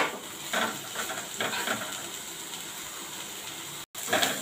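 Vegetables lightly sautéed for Chinese bhel, a low sizzle broken by repeated scraping and tossing stirs in the pan, fairly quiet and close.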